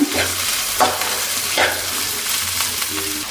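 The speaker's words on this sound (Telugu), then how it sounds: "సన్నగా కట్ చేసుకున్న క్యాబేజు క్యాప్సికము బీన్స్ క్యారెట్ వేసుకుందాం వేసుకొని అయితే ఆఫ్ బాయిల్ వేయించుకుందాం" Thinly cut cabbage, capsicum, beans and carrot frying in a pan, a continuous sizzle broken by several regular scraping stirs of a spoon, close and clear without any voices.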